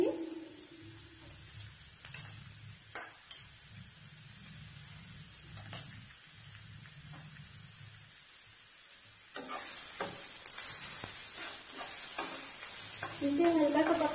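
Garlic and ginger frying in a few spoonfuls of hot oil, being stirred and scraped in a pan for momo filling; continuous close sizzle with rhythmic stirring, the frying growing louder and brighter toward the end.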